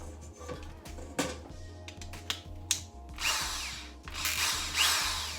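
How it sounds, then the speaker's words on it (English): A power tool whirs steadily while mixing honey into mint mead, with a low motor hum, clicking mechanical ratcheting and bursts of louder stirring noise, close and without speech. "You don't need the power tool to do this, you can do it by hand"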